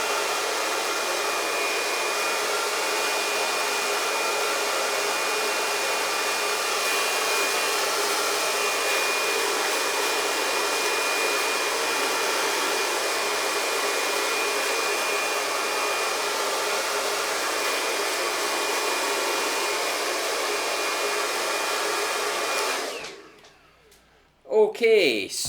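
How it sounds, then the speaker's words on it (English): A hair dryer blows hot air while drying hair styled with mousse, a loud, steady, close whooshing roar that runs unbroken for over twenty seconds before it cuts off sharply near the end, followed by brief clatter. "I've blow dried my hair with the mousse"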